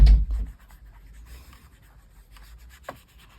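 A paintbrush pushes wet watercolour pigment across paper in soft scratchy strokes: a firmer scrub at the start, quiet brushing, then one more brief swipe near the end, close and with no voices.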